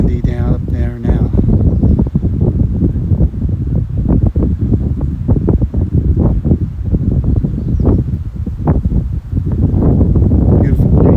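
Gusty wind buffets the microphone on a walking trail at the Grand Canyon of Pennsylvania, rumbling and roaring in uneven bursts for the whole stretch.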